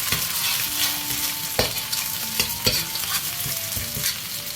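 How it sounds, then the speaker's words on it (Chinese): Ginger, garlic and Sichuan peppercorns are stir-fried in hot oil in a wok for a spicy crispy fish dish, giving a continuous close sizzle with repeated scraping strokes of the spatula. "另外起锅下油，花椒即可，姜蒜，把姜蒜炒香"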